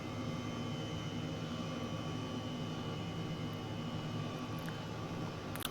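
Steady, continuous engine and rotor drone of a 145 helicopter flying over New York City in Microsoft Flight Simulator, an even, unbroken hum throughout with no talking.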